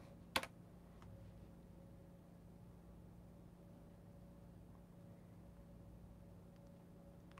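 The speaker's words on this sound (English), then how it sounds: "I'm typing right now." Faint, sparse keystrokes on a computer keyboard, with one sharper click near the start, over a steady low electrical hum in a quiet room.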